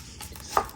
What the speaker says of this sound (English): Then I'm going to go ahead and cut up some onion.